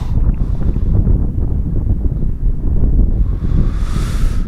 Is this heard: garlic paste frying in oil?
no